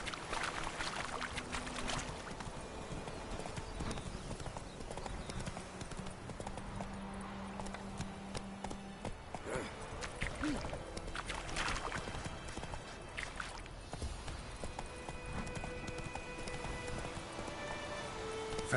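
Hooves of a horse in The Witcher 3: Wild Hunt beat in a fast, steady clip-clop gallop, crisp and continuous over quiet game ambience, with no talk.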